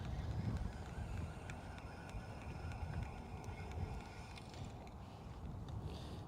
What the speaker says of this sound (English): You stupid wind.